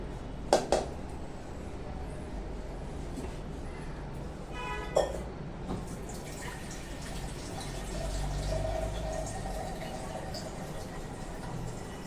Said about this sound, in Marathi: आता याच्यामध्ये पाणी ऍड करूया